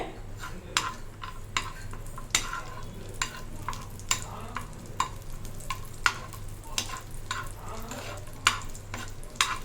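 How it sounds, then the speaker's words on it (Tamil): Cashews fry in melted ghee in a pan, a soft steady sizzle broken by frequent sharp clinks and scrapes of a spoon stirring against the metal, close and fairly quiet. "முந்திரி நல்லா வறுபடட்டும்"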